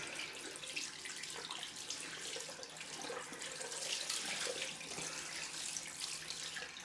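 Cold water runs steadily from a tap into a sink during a straight-razor shave rinse, a continuous close splashing hiss with no voices.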